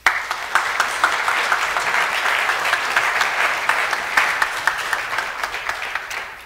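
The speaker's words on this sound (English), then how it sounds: "Let's bless them with a round of applause." A church congregation gives a round of applause for ministry volunteers, dense clapping from many hands sustained evenly throughout at moderate distance, with no talking over it.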